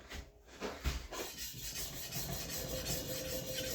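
Planer, chipper and jointer knives sharpened by hand give a continuous close grinding rub of steel on an abrasive surface, with a few strokes early on and then a steady sustained scraping.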